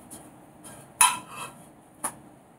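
French toast flipped in a frying pan: a few sharp metallic clinks and scrapes of a utensil against the pan, close and isolated, with a soft sizzle between them.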